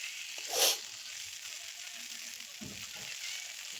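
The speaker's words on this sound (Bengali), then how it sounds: "আমি বেগুন ভাজা করছি" Brinjal slices frying in oil in a home kitchen, a soft steady sizzle with a brief louder hiss early on and a couple of muffled knocks later.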